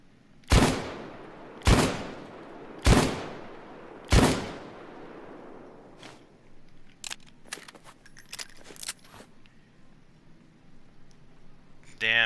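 Four heavy Taurus Judge shotgun revolver shots boom in Payday 2, evenly spaced about a second apart, each with a ringing tail, then lighter clicks and metallic reloading rattles follow.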